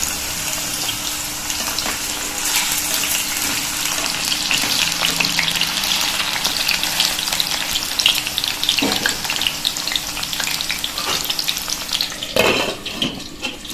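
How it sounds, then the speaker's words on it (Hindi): Sliced ridge gourd fries in hot oil, a loud, dense, continuous sizzle close by, with occasional clinks and stirring near the end. "तेल हमारा गर्म हो गया है। अब हम इसको इसमें फ्राई करेंगे।"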